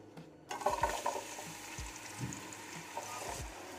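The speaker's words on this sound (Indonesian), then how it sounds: "Nah setelah itu kita masukin bawang bombaynya" Chopped onion tipped into hot oil in a pan while making homemade meatballs, giving a steady sizzle with intermittent scraping and knocking from stirring, close and fairly quiet, no talking.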